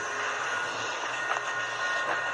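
A GT22 diesel locomotive of Trenes Argentinos, number A914, rumbles steadily at a distance while shunting at Mar del Plata station, a constant broad engine drone with faint higher whine and no voices.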